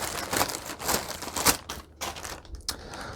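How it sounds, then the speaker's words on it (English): A blade slicing through packing tape on a cardboard box gives a run of close, scratchy crinkling and tearing bursts, irregular and fairly loud, with a sharp crackle in the middle and quieter scraping afterward. "So let's go ahead and get this cut open here."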